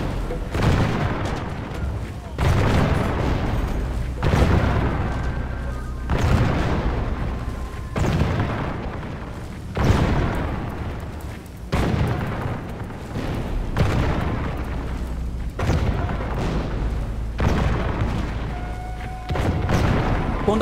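Cannon fire in the medieval strategy game Medieval 2: Total War during a city assault, a series of about nine heavy booming blasts spaced every two to three seconds, loud and close, with battle noise between.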